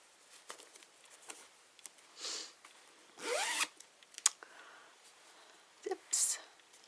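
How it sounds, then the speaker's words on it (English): A zipper closes on a sewn fabric bag, giving several short rasping pulls of moderate loudness with faint handling rustles between them. "It zips shut."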